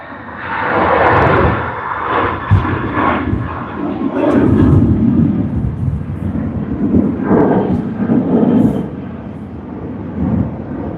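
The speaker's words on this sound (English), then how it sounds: "Here we have Jetstar flying in to Havilland" A Jetstar airliner flying in at Sydney Airport gives a loud, rumbling jet roar that swells and rolls over several seconds, close overhead, with no talk.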